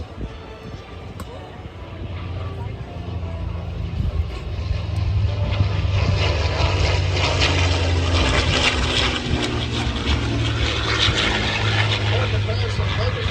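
A P-51 Mustang with a Rolls-Royce Merlin engine flies past at an air show, its deep propeller drone swelling louder and holding steady as it passes, with a crowd and announcer faintly beneath.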